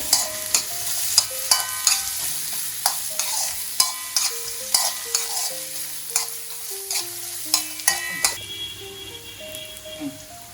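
Finely chopped small onions fry in a pan, a soft sizzle punctuated by repeated spatula scrapes and taps, heard under a gentle melodic tune.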